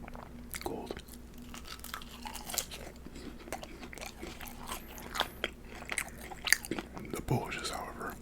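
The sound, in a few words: eating cold fries and Maxwell Polish sausage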